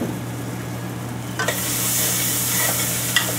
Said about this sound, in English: Now those vegetables are cooking right up.